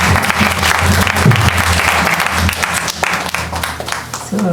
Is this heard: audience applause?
yes